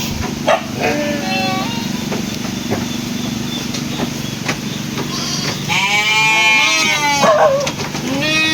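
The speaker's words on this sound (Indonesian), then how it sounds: "Wow, kambing Garut semua ini. Waduh, Masya Allah, banyak sekali kambingnya" Many Garut goats bleat together, overlapping wavering cries that swell toward the end, with a person talking and a dog barking among them.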